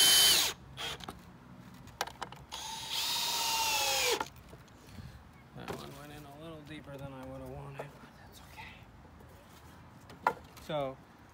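A screw is driven into a wooden herb planter, with a loud burst of power-drill whirring for about a second, short mechanical clicks and knocks around it, and someone talking in between.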